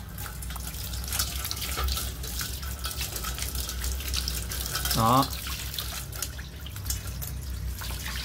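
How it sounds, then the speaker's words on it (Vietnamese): A water hose sprays to rinse during cleaning, a steady broad hiss of running water throughout, with a voice speaking over it. "Bây giờ mình lấy vòi nước để mình xịt"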